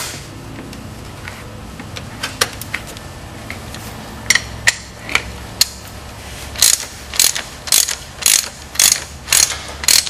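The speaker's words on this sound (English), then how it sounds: "that's when you're ready to go with your ratchet." A ratchet tightens the oil filter housing on a 2008 R56 MINI Cooper S, heard up close: a few scattered clicks, then a steady run of loud, rapid clicking bursts in a regular rhythm, with no talk.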